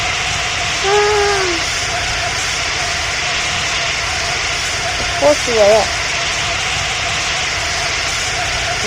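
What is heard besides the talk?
airplane engine inside the cabin after takeoff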